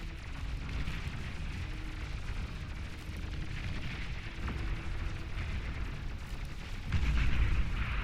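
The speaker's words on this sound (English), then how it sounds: "Long range plasma cannon has done its job" A long range plasma cannon fires in the strategy game Beyond All Reason, a steady rumbling barrage of distant booms and explosions that swells louder near the end.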